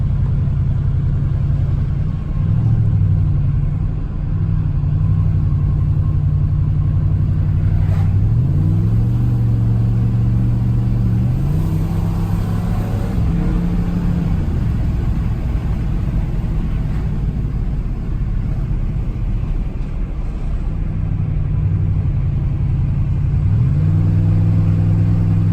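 A 2004 Ford Crown Victoria engine while driving on a backroad, a steady loud low drone with rising and falling pitch as the car accelerates and shifts, heard from inside with continuous road rumble and no talk.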